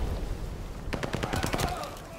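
A burst of rapid automatic gunfire in Call of Duty: Vanguard at a hardpoint, about a dozen quick sharp shots in under a second, loud and close after a calmer stretch of game ambience.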